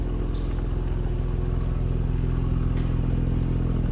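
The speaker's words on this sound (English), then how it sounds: "listen to that exhaust at idle" A 2022 Porsche Macan GTS with an all-wheel-drive 2.9-litre twin-turbo V6 idles, its exhaust giving a steady low rumble with no revving and no talk.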